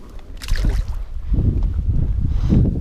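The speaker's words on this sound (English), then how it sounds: "The wind has picked up considerably" Strong wind blowing outdoors beside a lake during winter bass fishing, a steady broadband roar with gusty low rumble buffeting the microphone throughout, with no voices.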